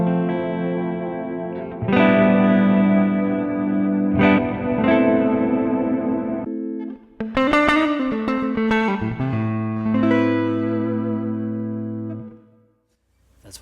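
An electric guitar runs through an IK Multimedia X-Space reverb pedal with a cab sim, playing sustained chords and single notes with a lush, washy reverb tail. Loud and alone, it ends with the tail fading.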